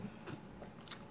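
Someone bites into crunchy air-fried chicken, producing quiet, close crisp crunches and brief crackly chewing sounds with no talking.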